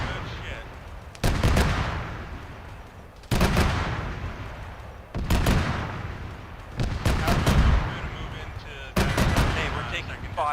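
Repeated bursts of heavy gunfire during a military video game operation, loud sharp volleys striking every couple of seconds with rolling echoes, while players talk over the radio underneath.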